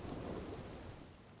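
Steady rain with a low thunder rumble in the Red Dead Redemption RP video game, a dense continuous wash of downpour that fills the short stretch at an even, loud level with no talk.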